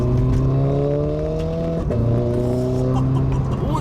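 Engine of a Renault Clio RS 220 Trophy hot hatch with automatic gearbox, heard from inside as it accelerates, a loud steady drone climbing in pitch through one gear, dropping briefly, then rising again.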